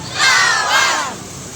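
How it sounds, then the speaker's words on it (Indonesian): A crowd at an Indonesian market traders' gathering shouts "lawan" (fight) together, a loud collective cry that swells for about a second and then fades. "Yang mau lawan mafia teriak lawan."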